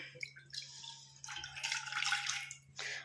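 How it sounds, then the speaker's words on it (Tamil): Water from a small tumbler is poured into an iron kadai in a home kitchen, giving a soft, splashing gush in a few uneven bursts with short pauses between, fairly quiet and close, with no talking. "ஒரு டம்ளர் அளவுக்கு நான் தண்ணி சேர்த்துக்கிறேன்"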